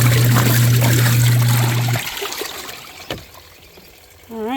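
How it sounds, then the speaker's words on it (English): Portable washer drain hose letting water out, a steady trickling pour for the first half that drops away into quieter dribbles, with a brief knock and some low background sound. "Get my drain hose going."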